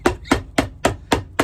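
A hammer strikes brown suede Alden leather boots six times in a steady, quick rhythm, each blow a sharp, close knock.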